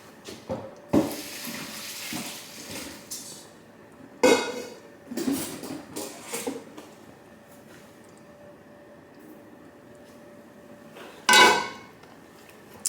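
Spaghetti is strained at a kitchen sink and then mixed in a pot: running water flows under several sharp metallic clanks of pot and utensils, with quieter gaps between them.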